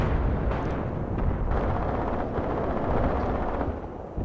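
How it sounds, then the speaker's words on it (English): Howitzer artillery bombardment in the WWII tactics game Graviteam Tactics Mius, a continuous, loud roar of overlapping booms and distant blasts with gunfire mixed in, heavy and rumbling throughout. "The howitzers are laying down an ungodly bombardment onto them."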